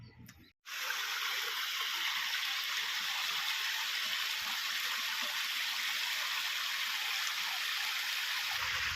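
A small rural stream flowing steadily, a continuous close rushing and trickling of water that starts abruptly after a brief moment and runs on unbroken.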